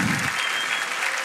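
Audience applause at The Juanpis Live Show, a live comedy talk show: dense, steady clapping from a large crowd filling the room throughout.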